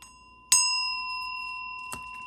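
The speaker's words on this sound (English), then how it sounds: "I'm going to go ahead and ring the bell for additional good juju" A small bell is struck once with a bright ringing tone that lingers and slowly fades, followed by a second lighter tap near the end.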